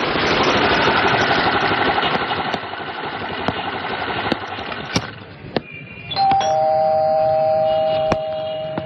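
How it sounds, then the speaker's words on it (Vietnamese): A doorbell rings at a house door, its electronic chime entering late and holding clearly after a noisy stretch scattered with sharp clicks. "Cứ bấm chuông lần nữa đi, sắp ngọ rồi còn gì nữa."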